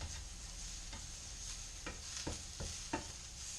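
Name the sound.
onions frying and caramelizing in a pan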